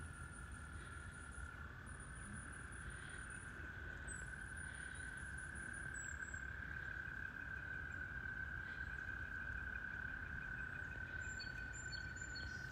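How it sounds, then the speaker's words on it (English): A dense chorus of frogs croaks continuously, a steady trilling drone with high bird chirps flickering above it, fairly faint and distant. "my husband thinks that that one like ongoing sound was frogs"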